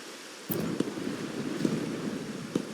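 Rain and thunder in the video game Wuthering Waves: a steady broadband rain hiss starting abruptly, with a few soft distant thunder rumbles and thumps spread through it.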